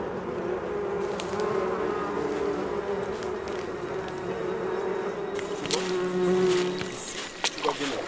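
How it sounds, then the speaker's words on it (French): Bees swarm close to leftover food supplies at a camp near a bay, making a steady, droning buzz that swells and fades, with a few scattered clicks and knocks. "Un bourdonnement se fait entendre. Les abeilles ont repéré ce qu'il nous reste de provisions."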